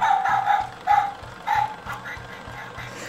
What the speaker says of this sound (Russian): только ее трогаешь, она сразу гавкает.